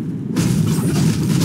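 A single deep firework boom erupts after a brief silence and rumbles on, loud and close, with no talk.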